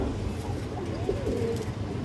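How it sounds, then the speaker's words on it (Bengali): Pigeons at a pigeon farm, soft low cooing heard close by over a steady background hum, brief and continuous. "এই দেখেন দর্শক একটা বিডার কবুতর, এই যে চোখটা দেখেন খুবই ভালো ব্লাড লাইনের একটা কবুতর"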